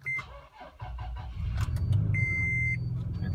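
Car engine cranking and catching after a jump start from a Duracell DRLJS20 jump starter, its idle rumbling steadily while a short electronic beep and a longer sustained beep sound over it.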